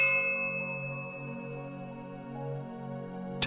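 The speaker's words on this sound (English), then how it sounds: "it will end with a relaxing chime that sounds like this" A soft chime rings out once and its tone sustains and slowly fades over several seconds, closing a calm sleep story set in a peaceful garden.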